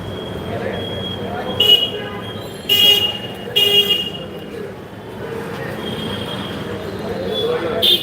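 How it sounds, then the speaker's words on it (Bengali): Several short, loud car horn honks sound over a steady wash of road traffic noise. "যে রাস্তায় একলাই চলে এমন জোরে হর্ন দরকার আছে"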